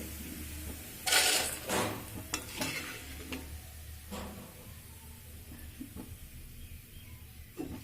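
Flattened rice (chira) frying in a pan over medium gas, with a sizzle running throughout and bursts of scraping and stirring that come and go, close and moderately loud.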